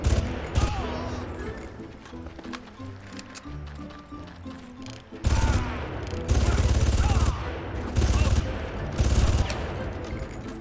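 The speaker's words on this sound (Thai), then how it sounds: "ปืนลั่น" Gunfire in the first Far Cry video game: loud bursts of rapid automatic shots and fusillades, with dense volleys starting midway and continuing in clusters, while a person talks at times.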